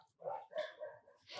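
A dog barks outside on a hill, two or three quick sharp barks close together, fairly faint and distant-sounding.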